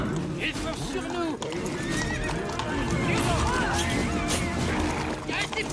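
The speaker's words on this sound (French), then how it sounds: "Allez, les chevaux!" Several horses neigh and whinny while hooves clatter in a fast galloping clip-clop, loud and close, under urgent shouting voices in a chaotic action scene in a film.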